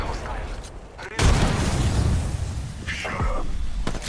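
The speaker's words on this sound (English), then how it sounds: "Someone is shooting up from there." Gunfire in an online shooter video game: a loud, sudden volley erupts and keeps crackling as sustained shooting, with softer game noise before it and a brief burst near the end.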